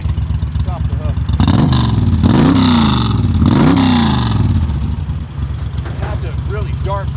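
A 2002 Moto Guzzi Stone Metal motorcycle exhaust while riding, a deep loud throaty rumble that rises and falls through repeated revving swells, close by and steady throughout.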